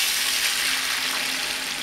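Beans frying in hot oil left over from cooking onions, a steady close bright sizzle that holds evenly from start to end with no voices.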